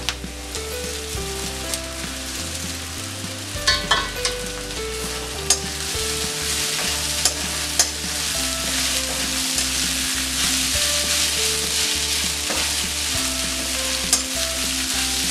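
Soaked poha and onions being stirred and fried in a pan with turmeric, a steady close sizzle with scraping spoon strokes throughout and no talking.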